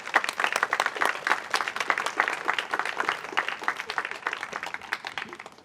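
An audience applauds the Chesapeake Shakespeare Company at a Howard County arts funding announcement, steady rapid clapping from a moderate crowd, close and fairly even, tapering slightly toward the end.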